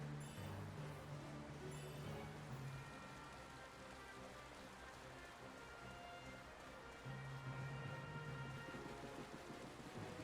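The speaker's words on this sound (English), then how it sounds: "Nice and rainy." Steady rain falls in Final Fantasy XII: The Zodiac Age, a soft, faint patter of drops on surfaces with quiet game tones and chimes drifting underneath, no speech.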